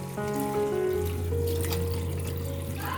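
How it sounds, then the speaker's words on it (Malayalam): Cornflour mixture is poured into boiling sugar syrup for Bombay halwa, a close steady liquid pour and bubbling that runs for a few seconds and then eases off. "ഇനി നമുക്ക് ഈ കോൺഫ്ലവർ കലക്കിയത് ഒഴിക്കാം."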